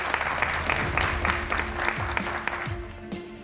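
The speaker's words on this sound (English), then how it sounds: "Give yourselves a round of applause for all of that, all right?" An audience at an awards event breaks into a short burst of dense applause, steady and close, with a few sharper claps standing out before it tapers near the end.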